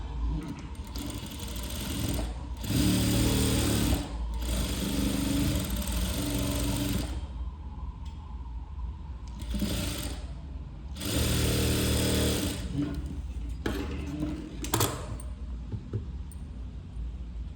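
A sewing machine stitches a sleeve lining in several loud, close runs of rapid mechanical whirring, with brief pauses between bursts and no voices.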